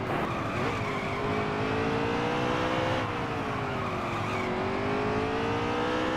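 A race car in a NASCAR video game screeches its tires in a long, continuous squeal that wavers in pitch over a loud engine roar, with the front tire being worn down through the corner.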